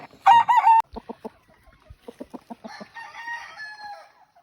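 A Boston Roundhead broodstag lets out a loud crow up close, then clucks in a short series of sharp calls, followed by a longer trailing crow-like call.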